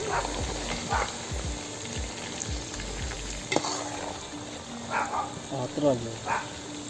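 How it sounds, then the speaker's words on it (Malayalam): Chicken pieces for a green chilli chicken fry sizzle and crackle in hot oil, a steady bubbling hiss with a few sharper clinks, while a voice speaks over it. "നമ്മൾ പൊരിച്ചെടുത്തിരിക്കുകയാണ്"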